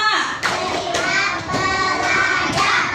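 A class of pupils in an elementary lesson on simple flat shapes claps together in a patterned 'clap five' routine, several sharp group claps spaced through a few seconds, close and fairly loud.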